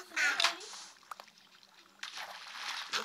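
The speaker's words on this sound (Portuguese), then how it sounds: "Tô caindo aqui embaixo da água." A character plunges into water in a parkour escape video game, giving a splashy, sloshing wash of sound after a burst of a voice, with a second longer wash of water noise trailing at the end.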